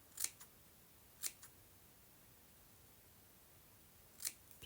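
Scissors snip through folded fabric for textile flowers, three short crisp cuts spaced apart against a quiet room, with no talking.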